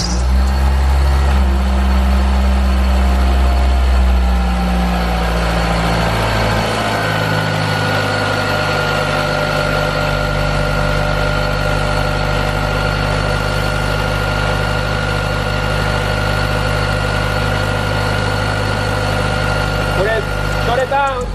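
A turbocharged Mitsubishi Eclipse engine cranks and catches, then settles into a loud, steady idle with a low rumble and a faint whine, heard up close while people talk nearby.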